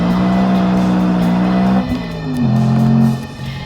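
A BMW M3 with a 4-liter V8 revs hard on a race track: a loud, close, sustained high engine note that dips and rises again, with gear changes breaking the pitch.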